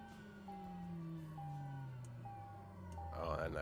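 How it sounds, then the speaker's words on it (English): Aircraft engines wind down after shutdown in Flight Simulator 2020, a steady falling whine sliding lower in pitch with faint beeps overhead, while someone talks over it. "Oh, that nice spooling down sound."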